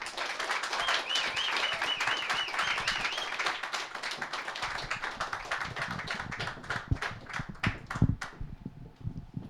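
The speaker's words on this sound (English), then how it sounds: "Y'all keep that applause up" Audience applause for an author's book presentation, dense at first and thinning into scattered individual claps near the end, with a faint voice early on.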